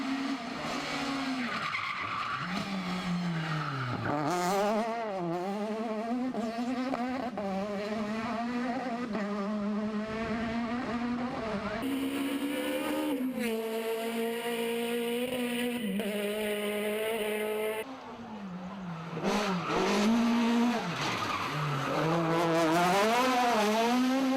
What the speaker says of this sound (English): the Peugeot 306 was looking sound and sounding sweet as he worked to keep it in a straight line